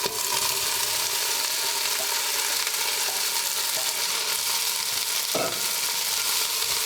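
Onion and celery sizzle steadily in about three tablespoons of hot olive oil in a pan for soup, a loud dense crackle throughout with a brief clatter near the end.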